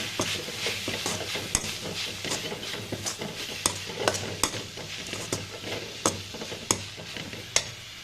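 A spoon stirs drumstick leaves in a pan as a powder of peanut, coconut, garlic and coriander is mixed in. Steady scraping and regular sharp clicks against the pan sound close, over a soft sizzle.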